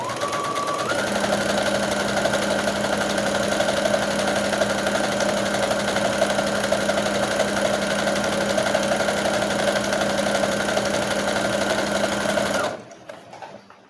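A sewing machine runs a long gathering seam through fabric for a handmade doll, a steady, close, continuous motor hum with fast stitching rhythm that holds unbroken for about twelve seconds, then stops abruptly.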